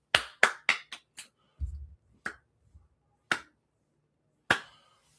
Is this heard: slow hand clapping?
yes